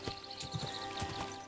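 Horse hooves clip-clop steadily in Kingdom Come: Deliverance 2 during a ride through the game world, a moderately loud rhythmic beat of strikes set over a constant ambient hum.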